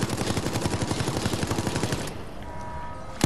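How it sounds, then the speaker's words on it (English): Rapid machine gun fire in the video game Resident Evil Resistance, a loud, close, steady stream of shots lasting about two seconds, then a quieter tail and one last sharp report. "Machine gun."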